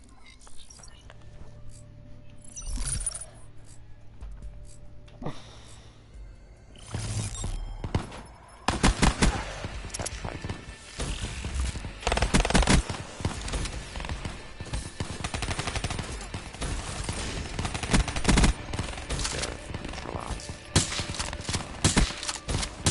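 Video game gun game match with bursts of automatic gunfire and single shots, quiet at first and then loud and frequent, mixed with a player talking over the action.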